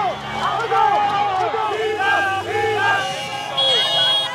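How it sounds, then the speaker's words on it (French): Thousands of supporters massed at an airport make a loud, lively din of overlapping voices, cheers and whistling horn-like calls, close and continuous throughout. "Peu avant 10 heures, des milliers de partisans y sont massés, impatients de communier avec leur candidat"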